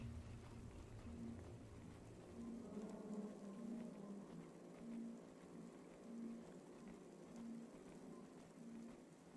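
Steady rain patters softly in the Cloudpunk video game, a faint, continuous wash behind a low, regularly pulsing tone, with no voices.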